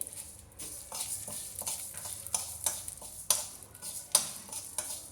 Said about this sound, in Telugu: ఫస్ట్గా మెంతులు వేస్తున్నానండి నాలుగు స్పూన్లు వేస్తాను